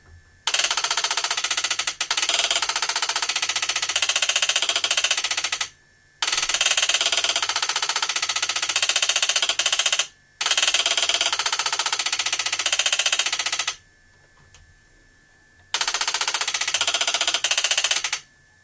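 Stepper relay of an old NLS Model 64 digital voltmeter with its foam-lined cover off, rapid loud mechanical clattering in long bursts separated by short gaps, close up.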